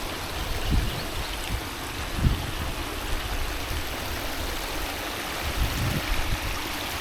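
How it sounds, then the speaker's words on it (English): Water runs over a log in a backyard pond, a steady close trickling rush with a few soft splashes and knocks. "We got water running over the log."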